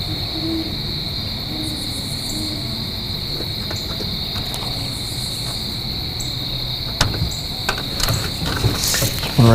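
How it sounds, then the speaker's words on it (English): A hoot owl calls at night in the distance, soft low hoots set against a steady loud chorus of crickets, with a few nearby clicks and rustles near the end. "The hoot owl."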